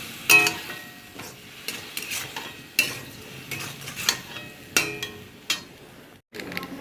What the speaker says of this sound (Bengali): এবার এই মশলাটা দিয়ে কষাবো।